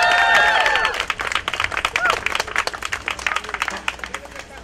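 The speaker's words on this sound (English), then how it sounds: "Another round of applause for Charlize, ladies and gentlemen." A crowd at a Lawrence Pride flag raising and Pulse memorial breaks into loud, sustained clapping with a few high cheers or whistles at the start, then settles into steady, slightly thinner applause.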